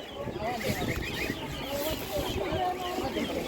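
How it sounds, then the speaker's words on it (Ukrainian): Laying hens cluck at a poultry market amid busy crowd noise, the bird calls faint and scattered under continuous background chatter and voices. "Так, ось такі несучки по 130 гривень."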